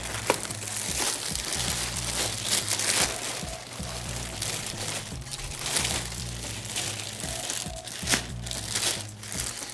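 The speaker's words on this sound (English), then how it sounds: "we want to take the plastic bag that came with the packaging and just slide that over" A plastic packaging bag crinkles and rustles as it is slid over the backrest of an NXT LEVL gaming chair, close and continuous, with irregular crisp crackles and a low background hum.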